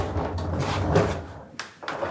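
Dormitory drawers being slid open or shut, a few muffled thuds and scrapes close by in a quiet room.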